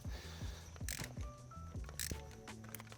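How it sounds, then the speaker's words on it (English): Ratcheting wrench clicks and metallic turning while working seized, corroded spark plugs out of an old car engine, repeated rhythmic ratchet strokes close up with brief scraping bursts. "let's see if we can get these spark plugs out now"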